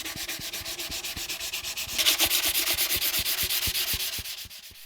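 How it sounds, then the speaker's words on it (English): Steady, rhythmic strokes of 400 grit sandpaper lightly sand an oil-finished electric violin, a raspy back-and-forth scratching that continues evenly without any voices. "lightly sanding the entire surface with the 400 grit"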